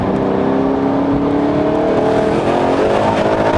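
A tuned 1000bhp Ford Mustang accelerates hard, its loud, close engine tone climbing steadily in pitch under a constant rumble, with no talk.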